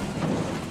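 Rain in the racing game Assetto Corsa Competizione, a dense continuous hiss of falling rain with a low rumble underneath, steady and fairly loud with no voices.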